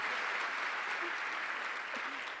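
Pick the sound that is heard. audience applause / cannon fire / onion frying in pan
audience applause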